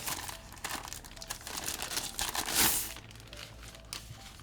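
Plastic wrapping is peeled off a mini PC, with soft close crinkling and rustling throughout, swelling to one louder crackle partway through.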